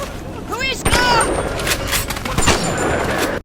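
Gunfire from a machine gun or shotgun in the game Bioshock, several sharp bursts over busy game sound and music, loud and close, with a voice speaking briefly.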